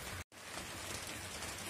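Steady rain drums on a roof with transparent tiles, a dense even hiss that fills the whole moment except for one very short dropout near the start.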